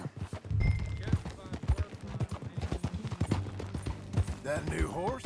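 Horse hooves clip-clop steadily during a ride in Red Dead Redemption 2, mixed with game sounds and character dialogue throughout.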